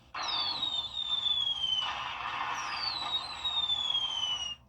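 Consumer fireworks going off: two long, falling whistles ride over dense, continuous crackling and bursts. The sound is fairly loud and steady for about five seconds, with no talking.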